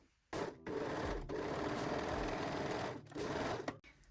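A domestic sewing machine stitching a seam in fabric for low-rise underwear, running in steady, close bursts of rapid mechanical whirring and clatter with two brief pauses, and no voices.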